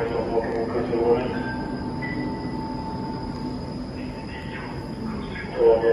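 A C14 metro train at Hjulsta stands across the platform and then moves, with a steady rumbling hum, squealing wheels and faint clicks under nearby talk.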